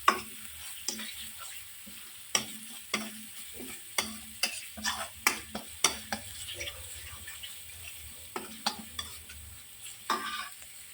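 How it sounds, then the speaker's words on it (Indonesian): Ground spice paste for vegetable lodeh with pumpkin, long beans and eggplant sizzles steadily in a pan as a utensil scrapes and stirs in repeated sharp strokes, close and moderately loud, with no voices. "Nah teman-teman, Bunda masukkan bumbu halusnya ya."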